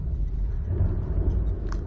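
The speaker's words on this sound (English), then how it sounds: "Ah, thunder." A low, steady rumble of thunder in the Call of Cthulhu video game, a brief dense roll with no voices over it.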